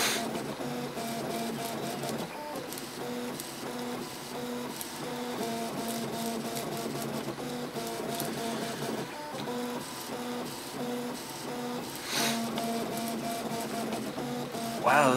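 A Printrbot 3D printer runs through its first print, its stepper motors whining in shifting tonal patterns with steady mechanical buzzing throughout, close and continuous with no talk.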